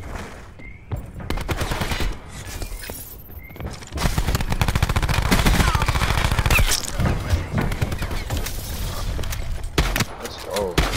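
Rapid automatic gunfire in the video game Control, loud bursts of shots rattling close by with brief gaps and reload pauses, dense sustained firing through the middle, under faint background game sounds.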